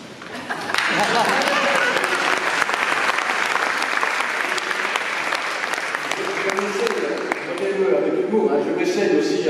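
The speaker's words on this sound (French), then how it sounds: "sous les applaudissements à cet instant." Loud, sustained audience applause for Mayor François Rebsamen at the opening of a public meeting, a thick continuous roar of clapping from a large crowd that barely eases over nine seconds.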